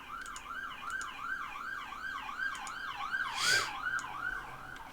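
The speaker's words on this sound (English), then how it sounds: "Oh, ambulance going by." An ambulance siren passes by at a distance, a steady, fairly faint rising and falling wail repeating over and over, with a brief louder whoosh partway through.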